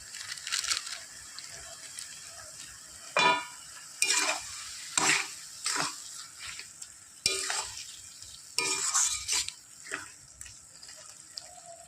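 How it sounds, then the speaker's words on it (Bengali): Spices and cumin powder being fried and stirred in fish oil, with bursts of sizzling and scraping strokes in a pan separated by quieter gaps, close and intermittent, no speech. "এই মাছের তেল দিয়েই আমি হালকা আজে ভালো করে কষিয়ে কষিয়ে ভাজা ভাজা করবো"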